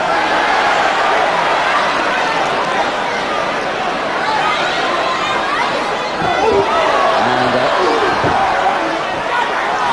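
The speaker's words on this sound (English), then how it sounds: "Just listen to the crowd here now." Arena crowd at a televised professional wrestling match, a dense, steady roar of cheering and chatter filling the whole stretch at high volume, with a few thuds and shouts rising out of it.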